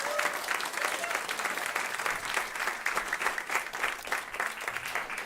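Audience applause fills a climate summit on food waste, a loud, dense, steady clapping that holds for about five seconds with scattered crowd noise.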